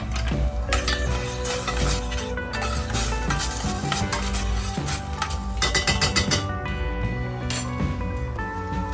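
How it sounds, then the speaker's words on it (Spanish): Squid going into a pan of sautéing ingredients while batch cooking, with steady stirring and scraping, metal clinks from a utensil, and a continuous sizzle close by and fairly loud. "Está salteado, ahora vamos a agregarle los calamares."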